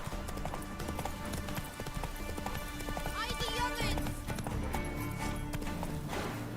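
Horse hooves clip-clop at a rapid galloping rhythm in The Witcher 3, close and clear, with a brief whinny and someone talking over it.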